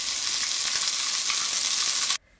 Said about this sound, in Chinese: 锅内的油烧热之后，放入生鸡腿煎制一下。